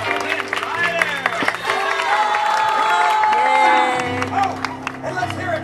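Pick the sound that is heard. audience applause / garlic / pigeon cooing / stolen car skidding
audience applause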